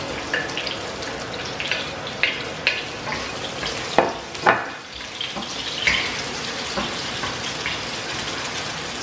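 Onion and garlic go into a hot pan for chicken adobo and sizzle steadily, with occasional stirring clinks and scrapes rising above the continuous frying hiss, close and moderately loud with no talking.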